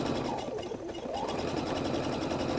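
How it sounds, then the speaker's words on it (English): A sewing machine runs steadily up close, stitching down a fabric-covered clothesline rope coil for a basket, its fast motor hum and needle chatter continuous throughout. "I sew down in a straight line"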